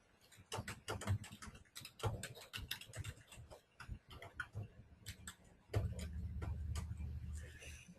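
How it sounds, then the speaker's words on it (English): Typing on a computer keyboard to enter a short comment, with a steady run of quick, close key clicks and a few heavier keystrokes. "let me just type in a sample"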